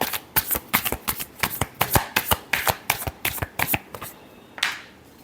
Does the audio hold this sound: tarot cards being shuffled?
yes